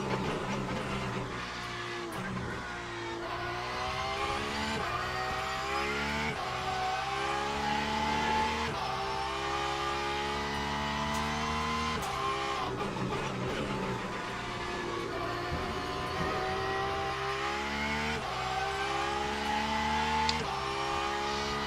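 Porsche race car in the Le Mans Ultimate racing game, its engine howling loud and close through repeated upshifts and downshifts, rising pitch sweeps cut by gear changes over twenty seconds, alone without talk.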